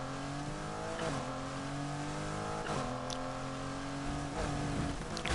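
An 80s Ferrari in Need for Speed Heat drives with a steady engine drone. Its revs climb through gears, with brief dips at each shift, loud and continuous throughout.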